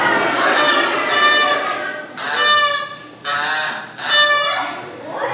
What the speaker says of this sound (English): Geese honk. It's the goose call.